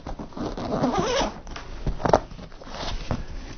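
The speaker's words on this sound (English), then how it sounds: "where's that zipper?" A zipper on a drone backpack is pulled open in a few scratchy, rasping strokes, close and fairly quiet.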